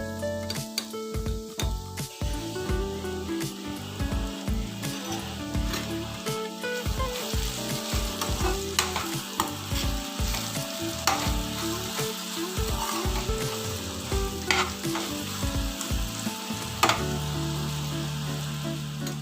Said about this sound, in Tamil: உப்பு தேவையான அளவுக்கு ஆட் பண்ணி நல்லா ஃப்ரை பண்ணணும்.